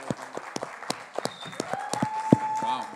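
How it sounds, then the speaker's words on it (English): An audience at a school talent show finale applauds, with scattered sharp claps and cheering that builds over a steady crowd murmur, while people talk and whoop over it. "the crowd is just going crazy"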